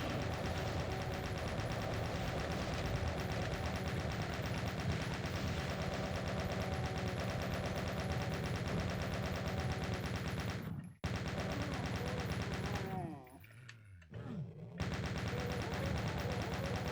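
Shotgun fire in the Doom video game pours out as a dense, unbroken barrage of rapid blasts, loud and constant. It cuts out briefly around the eleventh second and again for a longer gap near the end before resuming.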